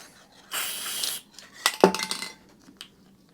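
Someone handles the metal carburettor float bowl of an Allett Kensington FJ10 mower, first a short hissy rustle, then a cluster of crisp metallic clinks and taps close by.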